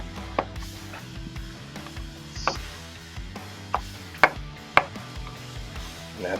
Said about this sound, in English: We're just going to do a rough chop on this cilantro.